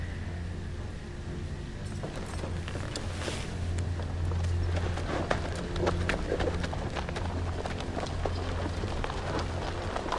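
Horses' hooves clip-clopping in the Game of Thrones game by Telltale Games, a run of sharp irregular clops over a steady low rumble of background ambience, fairly close and continuous.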